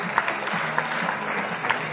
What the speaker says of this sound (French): Quelques applaudissements pour nos amis.